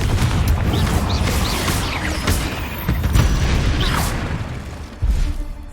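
A Confringo blasting spell goes off in Hogwarts Legacy, a dense run of booming, crashing impacts with a few sharp bursts, including a renewed hit near the end, loud and close amid game action.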